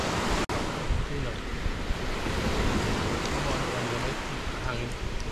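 Wind blows near the sea in a continuous, gusty roar that buffets the microphone, mixed with the wash of surf and one abrupt dropout near the start.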